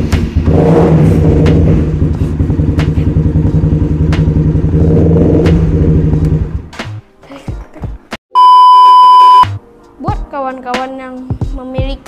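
Honda CBR150 first-generation motorcycle with a rare DPS Pelangi exhaust, engine still cold, revving loudly with rough, uneven throttle blips for several seconds, then cutting out, followed by a sustained electronic beep and faint background sounds.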